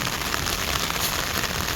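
Heavy rain falls hard and continuously in a dense, even roar with a faint crackle of drops on a surface, and no voices.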